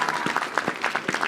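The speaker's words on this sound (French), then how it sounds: "Vous avez raison d'applaudir." Brief clapping from an audience at a mayor's New Year ceremony, several sharp, separate claps in an uneven patter, fairly close and moderately loud.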